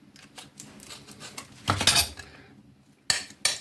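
Utensils clink and scrape against a dish while tuna salad with mustard and mayonnaise is mixed, with soft scraping broken by a few sharp metallic knocks.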